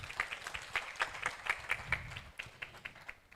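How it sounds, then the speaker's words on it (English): An audience at a Kyambogo University International Women's Day celebration claps steadily in a quick, even rhythm, moderately distant, the applause gradually thinning toward the end. "giving him a bigger hand clap"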